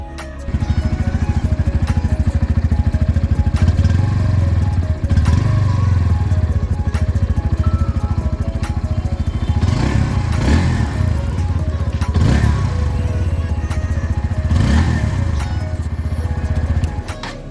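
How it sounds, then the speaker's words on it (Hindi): Exhaust note of a Bajaj Pulsar NS160 motorcycle with an underbelly exhaust, a steady loud idle burble held close by, with three sharp throttle blips rising and falling near the end. "चलिए आपको चेक करा दे रहा हूँ इसका एग्जॉस्ट नोट।"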